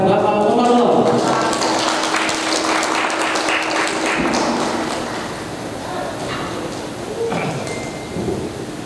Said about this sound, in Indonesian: Kasih tepuk tangannya kepada Bapak Omarullah.